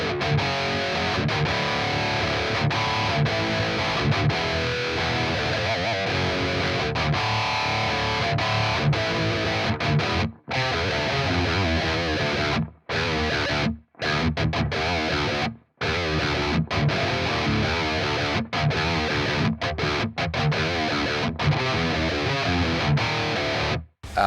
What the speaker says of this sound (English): So this is the 5151. It's got a boost and a noise gate once again.